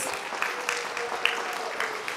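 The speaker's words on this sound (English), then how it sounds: "If we can get a big round of applause for our spellers." A crowd at a district English spelling bee applauds the spellers, steady clapping with a few sharper claps standing out and faint voices underneath.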